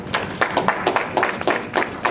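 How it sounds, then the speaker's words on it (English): A group claps together in a rhythmic burst at a meeting on agricultural development, fairly close, with distinct evenly spaced claps. "Let us clap very well, everybody."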